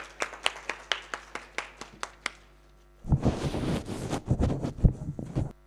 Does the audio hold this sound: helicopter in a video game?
no